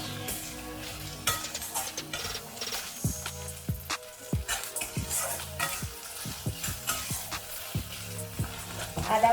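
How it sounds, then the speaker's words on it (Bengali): Ginger fries in hot oil in a pan, giving a continuous sizzle close to the listener, punctuated by frequent sharp clicks and scrapes of a spoon stirring against the metal. "আদা ভাজা হয়ে গেছে"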